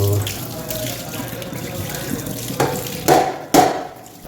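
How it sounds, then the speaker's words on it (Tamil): A kitchen strainer is rinsed under a running tap, with steady water flow and a few louder splashing bursts toward the end as it is moved under the stream. "ஸ்ட்ரெயினரை கொஞ்சம் கழுவிடலாம்"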